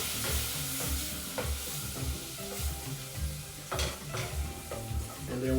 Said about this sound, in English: putting some butter in our pan